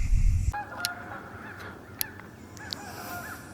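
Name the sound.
Canada geese honking while flying over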